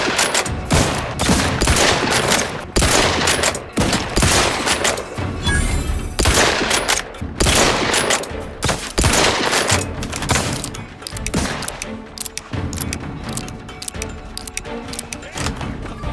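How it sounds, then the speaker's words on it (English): Gunfire rattles in The Outer Worlds 2, loud rapid bursts of shots and thumping impacts running nearly nonstop, dense and close throughout. "Where are you shooting at?"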